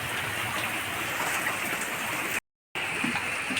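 Dense, steady storm rain pours down in a continuous hiss during flooding in Middle Andaman, broken by a brief moment of silence before the downpour resumes.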